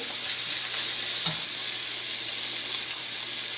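Calamari and prawns sizzle and fry while being tossed in a hot pan, a steady close hiss throughout with one brief clink of a utensil and no talking.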